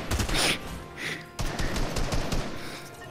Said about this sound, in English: Gunfire, north by northwest, 335.